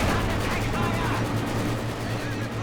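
Two light machine guns in Company of Heroes 2 pour continuous rapid fire into a Maxim position, a dense unbroken rattle of gunfire with battle noise, heard under a commentator's voice.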